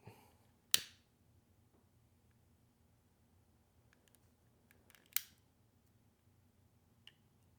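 Bow string tie-in material is snipped with two sharp, close, isolated clicks of cutting, separated by a few quiet seconds, and one fainter tick follows.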